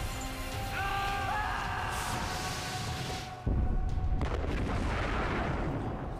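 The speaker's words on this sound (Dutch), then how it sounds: "Dat is niet zo'n kleine ontploffing ook." An explosion in the video game Valiant Hearts bursts with a deep boom midway as a fort is destroyed, following a rumbling stretch of tones and effects, then crackling debris continues afterward.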